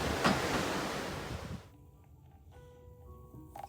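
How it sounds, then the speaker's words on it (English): Ocean water splashing up beside a cruise ship, a broad rushing wash of surf for about a second and a half before dropping to a quieter background. "The ocean. Just splashing up."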